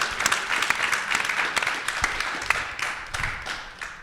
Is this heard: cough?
no